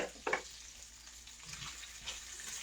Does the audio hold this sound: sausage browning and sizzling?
yes